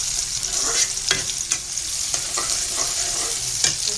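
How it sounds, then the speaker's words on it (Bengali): Onions frying in a pan, a loud continuous sizzle broken by repeated sharp stirring scrapes, close and without voices. "আর এটা পেঁয়াজ ভাজতেছি।"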